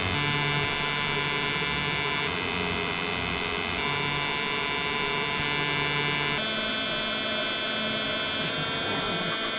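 Steady, continuous mechanical hum from a laser cutting machine on an exhaust factory floor, a dense robotic drone with a bright high whine layered over it, loud and unbroken with no talking.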